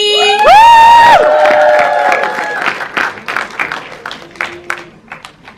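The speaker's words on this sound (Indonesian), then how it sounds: "boleh kita dengar tepuk tangannya juga untuk Ami" Scattered applause and cheers for Ami rise from a press conference audience at an Indonesian film trailer launch, following a brief loud tonal swell and thinning into sparse claps and calls.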